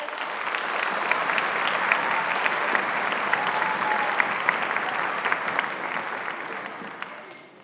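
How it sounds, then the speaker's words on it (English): A concert audience at a sixth grade band and orchestra performance applauds steadily for the percussion instructor, a dense, even wash of many hands clapping that holds for several seconds before tapering off. "Let's give him a round of applause for all the work he does"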